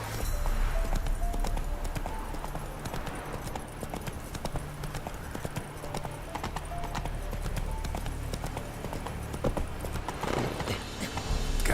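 Roach, Geralt's horse in The Witcher 3, gallops with a continuous rapid clip-clop of hooves close by, under a low ambient game soundtrack, with a short neigh near the end.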